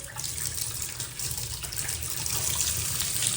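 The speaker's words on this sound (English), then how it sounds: "We've got water going down the plug." Hot and cold water runs from a tap and drains down a sink plug in a bungalow under renovation, a steady, close, continuous splashing rush with no talk.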